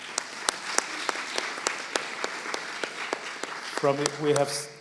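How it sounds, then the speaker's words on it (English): A crowd applauds steadily with dense clapping at a UAE–China cultural exchange event, and a voice speaks over it near the end as the applause continues. "you need a round of applause from our dear audience"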